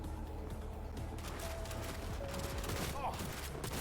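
Smart gun gunfire in the video game Cyberpunk 2077, a steady volley of rapid, overlapping shots amid busy combat noise, moderately distant and continuous throughout.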